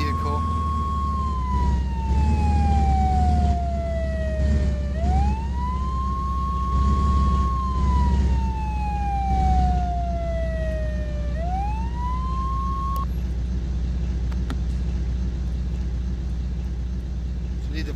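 An emergency vehicle siren in the game Flashing Lights wails in slow rising and falling sweeps over a steady low engine rumble, then cuts off, leaving only the rumble.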